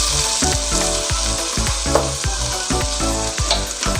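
Minced meat (keema) fries in a pan with ginger and garlic, giving a loud, continuous close sizzle. Rhythmic scraping stirs punctuate it throughout, with no talk.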